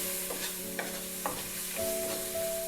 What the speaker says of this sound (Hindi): इसमें डालेंगे कॉर्न, मिक्स करेंगे